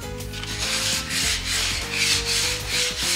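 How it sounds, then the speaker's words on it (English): Rhythmic back-and-forth rasping of 80-grit sandpaper lightly taking sharp edges off wood, close and steady, in repeated short strokes with a low hum behind. "I'm just barely sanding them, just to take the sharp edge off"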